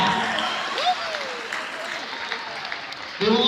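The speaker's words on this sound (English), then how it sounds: "One more round of applause for our Marines in the house tonight." An audience in a gymnasium at a bike show event claps steadily for Marines, a broad, even wash of applause with a voice and a short whistle rising through it.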